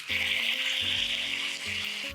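Chicken cooks in a pan with a steady, broadband sizzle of frying that runs throughout, while a low intermittent humming tone sits underneath; no one speaks.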